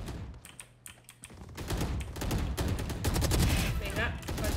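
Automatic rifle fire from the Phantom in the video game Valorant, heard as rapid, loud bursts of gunshots that build into sustained, dense firing over the second half.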